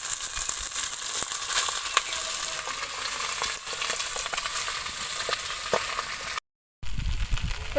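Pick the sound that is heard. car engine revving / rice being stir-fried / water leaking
rice being stir-fried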